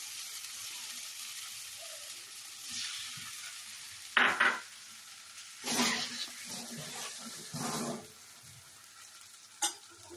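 Amla (Indian gooseberry) paste cooking in a pan for chutney, stirred with a spoon: a low sizzle broken by several loud scraping, splattering bursts of stirring, close and without talk.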